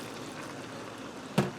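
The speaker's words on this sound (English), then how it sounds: "I'm going to add about a cup of water," A cup of water goes into a sizzling sausage and potato skillet: a soft, steady bubbling hiss, then a sudden sharp splash and burst of sizzle near the end.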